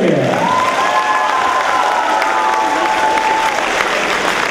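Sustained audience applause fills the hall at a spring holiday concert, thick and even, with a faint drawn-out tone and a few cheers mixed into the clapping.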